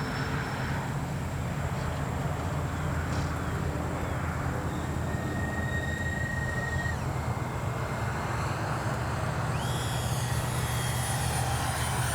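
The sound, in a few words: Freewing twin 70mm AL-37 RC jet flying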